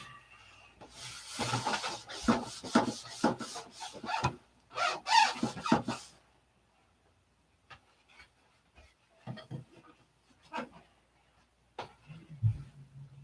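A polished wooden finish rubbed out by hand gives a run of quick, rasping strokes in a close, steady rhythm for several seconds, followed by a few scattered, softer scrapes and a low thump.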